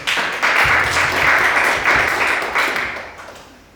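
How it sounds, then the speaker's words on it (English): A crowd at a Bible quiz claps in a loud, steady burst of applause that gradually thins out and fades toward the end. "You got a big round of applause."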